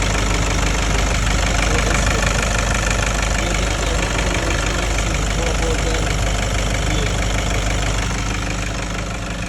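A Toyota Hilux 2KD diesel pickup engine idles close by after injector cleaning, a steady loud knocking rumble that continues without pause, with someone speaking over it.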